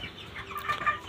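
A small flock of about fifteen heavy chickens, each over two kilograms, clucks softly on a poultry farm, a few short calls rising over a low, steady background with no one talking.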